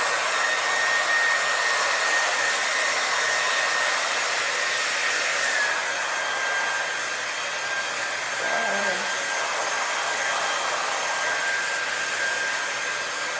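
A hair dryer on a low setting blows through short natural hair with its nozzle held close, a continuous, fairly loud whooshing hum with a brief dip partway through.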